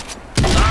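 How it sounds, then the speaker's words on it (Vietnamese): A short burst of rapid gunfire from the CrossFire shooter game, loud and close, cutting in abruptly after a quiet moment and continuing to the end. "bắn thế này thì chết người"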